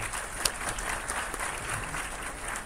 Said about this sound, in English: Please join with me welcoming Dr. Bhatt sir with a huge round of applause